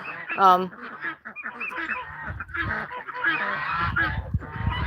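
Guinea fowl calling nearby in a poultry yard, loud rhythmic honking cries layered and repeated with overlapping voices from several birds.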